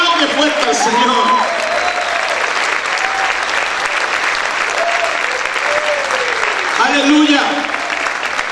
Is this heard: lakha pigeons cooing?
no